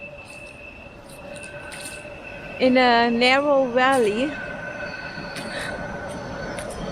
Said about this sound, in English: Oh no, there's a train coming.